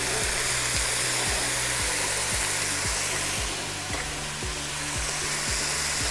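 Vegetables with cloves and bay leaves sauté hard in a pot for chicken noodle soup, giving a loud, continuous hiss and sizzle with faint regular ticking underneath.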